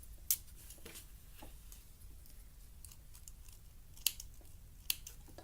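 Scissors trimming swimsuit fabric while sewing a tankini, a few quiet, sharp snips spaced apart in a calm room.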